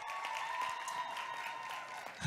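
Applause from a gathering at a creative-industries networking event as the artist Maria Nepembe is introduced, a steady dense patter of clapping held at moderate level for a couple of seconds, with a faint sustained tone running underneath.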